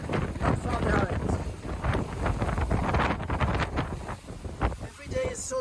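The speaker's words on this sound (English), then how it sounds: "Today it's much colder because of the strong wind" Strong wind buffets the microphone aboard an offshore racing sailing yacht, a loud, gusty roar with rushing water beneath and a voice speaking through it.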